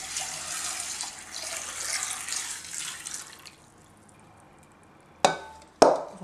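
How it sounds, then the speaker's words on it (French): Water runs from a tap over azuki beans set to soak in a kitchen, a steady hiss that stops partway through, followed by two sharp knocks. "Commencez tout d'abord par recouvrir vos haricots azuki avec de l'eau et les laisser tremper une nuit"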